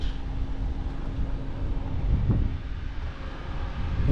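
Wind buffets a microphone outdoors in the UAE desert, a steady low rumbling roar with gusty swells throughout and no voices.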